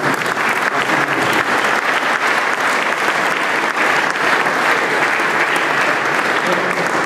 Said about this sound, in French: je pense qu'on peut les applaudir, et les équipes en interne, et les équipes d'ICO